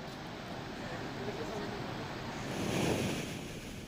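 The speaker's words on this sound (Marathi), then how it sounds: "त्यामुळे मोठ्या प्रमाणात पाण्याचा विसर्ग सुरू झाला आहे." Floodwater pours through five opened automatic gates of the full Radhanagari dam in Kolhapur district, a steady broadband roar heard from a distance, rather faint and wind-buffeted, swelling slightly near the end.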